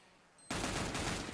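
Rapid Tec-9 pistol fire in CS:GO during a competitive match on Overpass, a dense, loud burst of shots that starts abruptly after a quiet moment and keeps up without a break.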